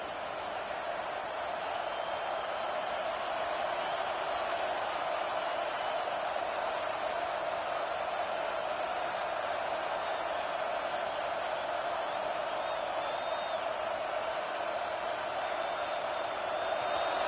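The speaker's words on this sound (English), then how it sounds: "This crowd is trying to inspire this defense to make a big red zone stop." Steady stadium crowd roar from the NCAA College Football 26 video game during a close game near the goal line before halftime, a continuous loud, dense wash of noise that holds level throughout with no spoken words.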